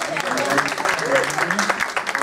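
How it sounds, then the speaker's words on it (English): Clapping from a crowd fills the room, steady and dense, with a voice speaking over the applause. "how about we give a big applause to our organization"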